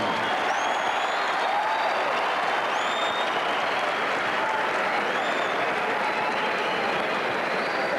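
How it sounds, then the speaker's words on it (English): Dense, sustained applause from a large crowd filling an indoor arena at a 1983 national championship track meet, loud and even throughout with a few faint whistles over the roar. "I'm surprised the crowd reaction to both Scott and Coghlan"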